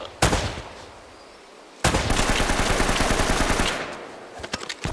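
Gunfire in the action game Uncharted: Drake's Fortune, set in a drowned city, begins with a single sharp shot and then a loud sustained burst of rapid automatic fire, followed by scattered closing shots.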